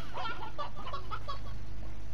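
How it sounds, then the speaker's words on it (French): Chicken clucking in the farming video game Slime Rancher, a run of short, rhythmic clucks and squawks heard close and clear with no talking over them. "Alors là, je vois qu'il y a une poule."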